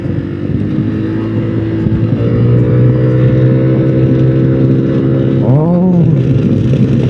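A Keeway XDV250 250cc scooter cruises along a highway with a steady engine drone and heavy wind rush at the microphone, its pitch holding level and briefly rising and dipping near the end.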